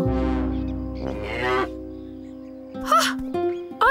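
Cartoon cows moo in a farmyard, several long tonal lowing calls in sequence, some overlapping, loud and close, with a couple of shorter higher bellows near the end and no talk.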